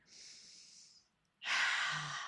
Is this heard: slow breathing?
yes